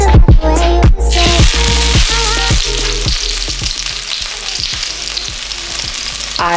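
Food fries in oil that is too hot, a loud sputtering sizzle that opens with sharp bursts and then settles into a steady crackle with rhythmic stirring clicks, no one speaking.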